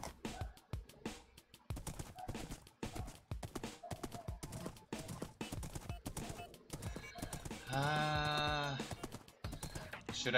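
A horse in the video game Minecraft clip-clops with rapid repeated hoof taps throughout, then lets out a loud, drawn-out whinny near the end, heard close and clear without speech.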